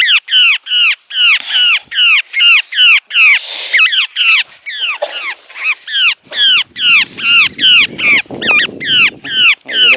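A bird during a rescue gives loud, harsh, crow-like calls close by in a rapid, regular series of about twenty, with a few brief voices and handling noises among them.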